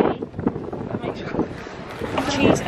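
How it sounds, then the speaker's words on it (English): Gusty wind buffets the microphone on a London street, a steady low rumble and roar that swells toward the end, with muffled talk mixed underneath. "so windy"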